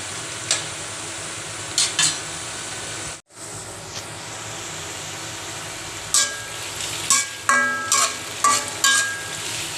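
Onions sizzling in a pan for a bitter gourd stir-fry, a constant hiss with a brief drop near the start, then clusters of sharp spatula scrapes and clinks on the pan, heard close without talking.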